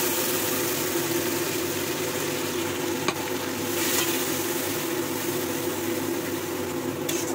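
Masala paste for paneer fries in a pan with browned onions, giving a steady, close, dense sizzle that runs without a break, with a couple of faint clinks of stirring.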